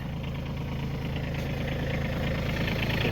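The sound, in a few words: tractor PTO-driven snow blower running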